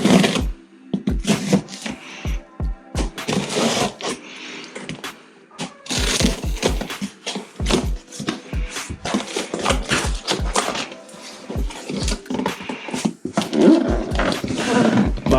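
Cardboard boxes holding a big turbo for a BMW B58 engine being opened by hand, with repeated sharp tearing, ripping and crinkling bursts in close, uneven rhythm throughout and no talk.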